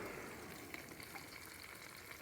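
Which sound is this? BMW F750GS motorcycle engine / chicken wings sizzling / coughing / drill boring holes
chicken wings sizzling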